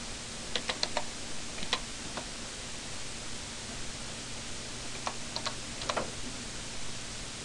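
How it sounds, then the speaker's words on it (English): Keys on a computer keyboard tapped in two short bursts of clicks separated by a pause, faint and close over a steady background hiss, with no talking. "That way it's a little easier to type it all in."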